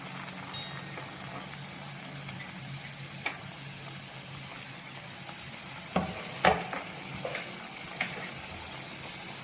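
Oil sizzles steadily as sweet somas dumplings deep-fry, with a soft continuous crackle and a few louder pops and stirring clicks near the end.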